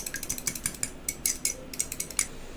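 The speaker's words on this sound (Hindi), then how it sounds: "एक अंडा फोड़ा हमने और इसमें नमक डालेंगे। थोड़ा सा नमक को मिला लेते हैं अंडे में।" Egg and salt whisked in a bowl, a quick run of light clinking taps and scrapes from a utensil striking the bowl's side in an uneven rhythm, close and fairly quiet, with no talking.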